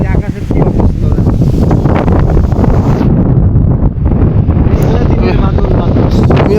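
Strong storm wind roars over a river, a steady buffeting rush that fills the whole stretch at near-constant loudness, easing briefly midway. People talk over the gusts.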